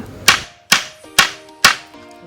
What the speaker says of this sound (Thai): เราจะนำสลักที่เราเสร็จแล้ว ไปตอกใส่รูที่เจาะไว้บนด้ามไม้ไผ่ค่ะ